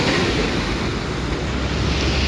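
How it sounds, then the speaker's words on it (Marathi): Monsoon waterfall cascading down a hillside near Mumbai, heard as a loud, steady broadband roar of rushing water with some wind buffeting, continuous and close throughout. "तुम्ही इथे बघितलं तर हा पूर्ण डोंगरच धबधब्याने व्यापलेला आहे"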